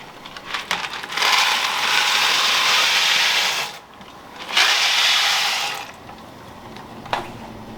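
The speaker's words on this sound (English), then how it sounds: "my water's boiling, so we're just gonna get some elbow macaroni into that pot" Dry elbow macaroni pours into a pot of boiling water in a home kitchen, a close rattling rush of pasta in two bursts with a short gap, then a light clink.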